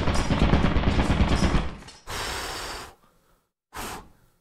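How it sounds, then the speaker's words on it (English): A video game turret fires in a dense, loud rapid burst of about a second and a half, followed by two shorter hissing bursts separated by near silence. "Ah! Turret!"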